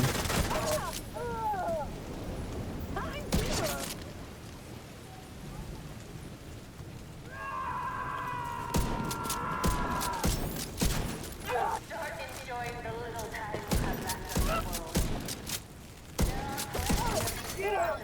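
Enemy gunfire in a video game comes in harsh, crackling bursts of rapid shots, some loud and close, mixed with in-game voices and effects throughout.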